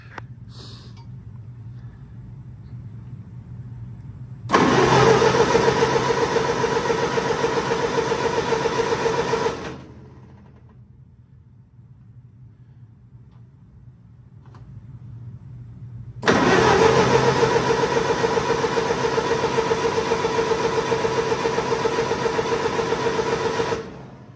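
A 1947 Cockshutt C30 tractor engine is cranked over in two long, steady bursts of about five and eight seconds, loud and close, separated by a quieter pause with low background hum.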